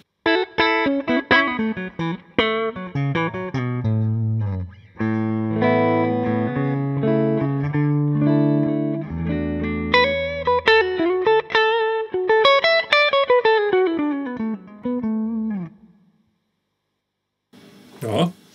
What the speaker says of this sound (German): Aber hier läuft kein Hall, das ist wirklich der trockene Amp.